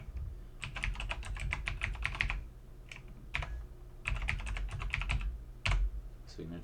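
Rapid keystrokes on a computer keyboard while a folder name is typed in RobotStudio, coming in three dense bursts of clicking separated by short pauses, close and clear with no talk.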